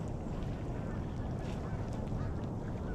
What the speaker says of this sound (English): All I have is a lot of geese.